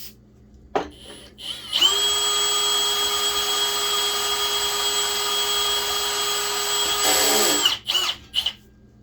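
A power drill in drilling mode, running slowly, whines steadily at close range for several seconds after a brief start, then winds down with a few short bursts at the end.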